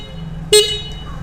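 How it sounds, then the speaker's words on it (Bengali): A single horn blast from a Bajaj Pulsar NS 400Z motorcycle, sounding once for about half a second, loud and close, over a low steady background hum. "আর হর্নের সাউন্ডও তোমাদের শুনিয়ে দ"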